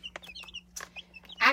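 Baby chicks in a homemade brooder give a few short, high peeps and chirps, with one louder cheep at the end, fairly close and with no talking.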